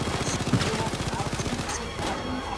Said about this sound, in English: Look at this sentry gun. This is amazing.